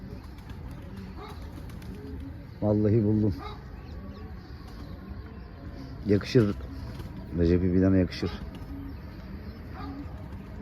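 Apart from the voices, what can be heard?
pigeons cooing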